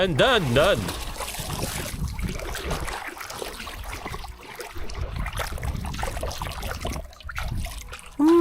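Water splashes and trickles as a found gold object is rinsed by teenagers on a treasure hunt, with voices talking over the steady wet sloshing.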